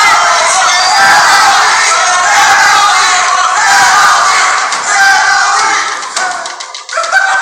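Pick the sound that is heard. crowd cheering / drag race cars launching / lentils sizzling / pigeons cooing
crowd cheering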